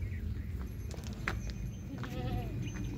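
A goat bleats a few times while being milked against a noisy outdoor background, short wavering cries rising over a constant rumble.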